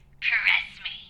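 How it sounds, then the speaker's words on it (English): A phone rings in the horror game Kill Cure: Beautiful Vice, a short bright electronic trill heard close, with a voice speaking over it. "Oh, that's a phone."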